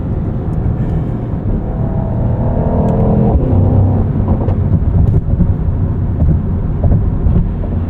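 A Mercedes-AMG GT63 coupe's V8 drones steadily and loud while driving, its rumble swelling slightly with throttle around the middle, with road and wind noise mixed underneath.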